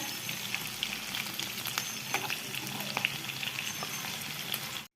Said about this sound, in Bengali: মিডিয়াম ফ্লেমে এগুলো ভেজে নিতে হচ্ছে তো একটা পাশ ভাজা হয়ে গেলে যে আস্তে আস্তে উল্টে দিচ্ছি এগুলোকে